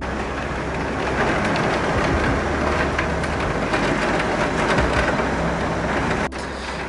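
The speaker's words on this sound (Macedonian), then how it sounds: "Значи, толку многу ќе врне." Heavy rain pours steadily outside in a broadband, continuous wash, loud and unbroken, with a brief dip near the end.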